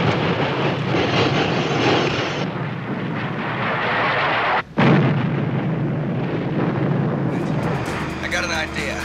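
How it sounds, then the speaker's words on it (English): A loud roaring blast from the rocket booster on KITT, the Knight Rider car, sustained for several seconds, briefly cutting out midway and then resuming, with a sci-fi electronic whine near the end. "Fire your rocket booster."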